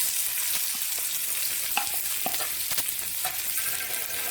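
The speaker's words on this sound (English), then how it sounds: "And I'm going to stir this until the onion turns light brown." Chopped onions and garlic fry in heated oil for a tomato sauce, giving a continuous close sizzle broken by several sharp spoon scrapes and taps against the pan; no talking.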